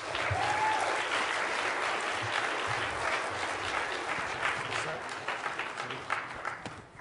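A large audience applauds steadily for performer Melina Speaks at a conference plenary, a dense sustained clapping that fades slightly toward the end, with a voice speaking over it.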